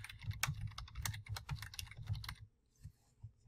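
Rapid typing on a computer keyboard while entering a bottle label, a steady run of close, crisp key clicks for about two and a half seconds that then stops, leaving only faint sparse taps.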